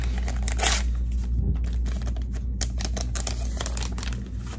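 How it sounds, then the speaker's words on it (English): Medical tape being torn into pieces, close by, with a quick series of crisp ripping and crinkling bursts over a steady low background hum, no speech. "Split the tape directly down the middle."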